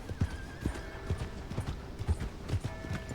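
Horse in Red Dead Redemption 2 game, hooves clip-clopping in a steady rhythmic walk with a brief neigh, moderately close, with no talk over it.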